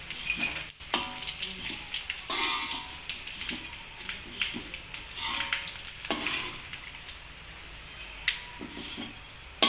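Anchovies crisp-frying in hot oil while making nasi lemak, a steady close sizzle with crackling spatters and occasional stirring scrapes, no voices over it.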